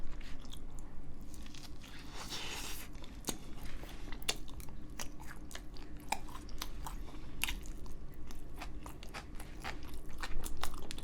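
Crispy Japanese-style pork loin cutlet (tonkatsu) from a convenience-store lunch box being bitten and chewed up close, with repeated crunchy bites and steady mastication and no talking.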